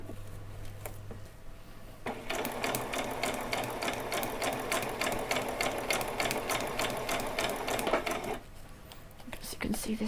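Sewing machine stitching fabric for a Halloween dress, a fast steady mechanical whirring in a sustained run of several seconds, with quieter handling sounds before and after.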